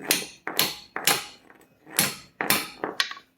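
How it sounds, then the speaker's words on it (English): Hammer blows strike a brake rotor on a Volkswagen MK7 Alltrack during a rotor and pad replacement, about seven sharp metallic whacks in an uneven rhythm, close and loud with no talking. "I ended up having to whack this with the hammer"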